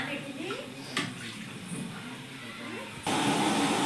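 Water poured from a glass into a pot for cooking rice, a soft steady pouring wash that grows louder and fuller near the end, heard alone and close.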